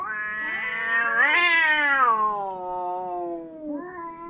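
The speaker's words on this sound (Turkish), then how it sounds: "gece bu kedilerin sesinden uyuyamadım biraz" Cats yowl at night beside a tent, one long rising and falling caterwaul that swells loud, then a shorter wail follows, close and clear with no talk.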